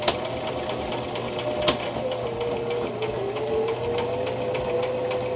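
A sewing machine runs steadily along a traced line on a pillow, a close continuous motor whir with one sharp click early on.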